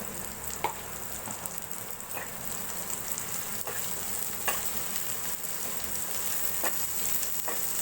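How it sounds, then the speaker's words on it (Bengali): Onion paste frying in oil for a loitta fish chochchori: a steady, hissing sizzle with occasional crisp spatter pops and light stirring scrapes, close and fairly quiet, with no voices. "পেঁয়াজ আমি একটু তেলের সাথে ভেজে নিচ্ছি।"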